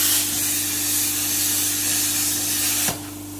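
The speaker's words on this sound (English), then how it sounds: "we're about to cut that in two with a plasma too" A loud, steady hiss of a plasma cutter roars for about three seconds with a low electrical hum beneath, cutting through the e-brake cable of a Chevrolet Silverado, then cuts off abruptly.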